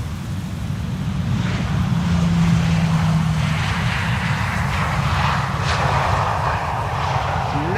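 KLM airliner arriving from Milan onto the Polderbaan runway at Schiphol, heard as a steady, fairly distant jet roar with a low rumble and wind, no talking.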